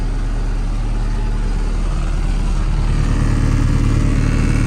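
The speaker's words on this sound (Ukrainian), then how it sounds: "Що, трактор отлично завівся." An MTZ 892 tractor engine idles in winter frost at about minus two degrees, a loud, steady low diesel rumble that holds unchanged throughout with no talking.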